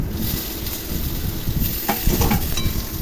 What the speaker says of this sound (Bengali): ফোড়ন ভেজে নিয়ে এর মধ্যে লম্বা করে কেটে রাখা পটলগুলো দিয়ে দিলাম।